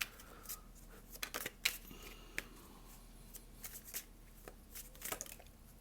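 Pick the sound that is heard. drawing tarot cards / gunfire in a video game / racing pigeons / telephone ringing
drawing tarot cards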